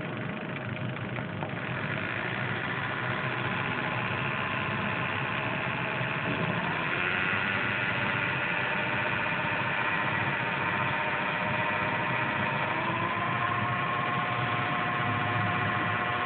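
Small DC motor whirring steadily while its speed is raised, a continuous buzzing drone with faint tonal lines that shift upward partway through, close and constant with no voices.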